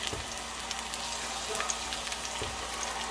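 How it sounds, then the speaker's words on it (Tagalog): Garlic frying in a hot pan (kawali) for pakbet, giving a steady, fairly quiet sizzle that stays even throughout, with a couple of faint knocks. "Mainit ang ating kawali. So, ilagay na natin ang ating garlic."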